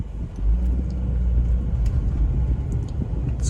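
A car's ABS engaging on dry pavement when it shouldn't, with a fault felt at the left front wheel, producing a steady low rumbling and pulsing road noise from inside the moving car, with no talking.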